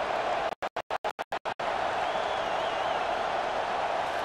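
Stadium crowd roar from the College Football 25 video game, a loud, steady wash of cheering broken briefly by rapid stuttering cutouts near the start, then continuing unbroken.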